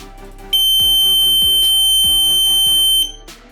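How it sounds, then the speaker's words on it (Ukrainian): A loud, steady high-pitched electronic beeper from a wireless car parking sensor kit sounds continuously for a few seconds, piercing and close, then cuts off abruptly. "Пищалка таки досить потужна."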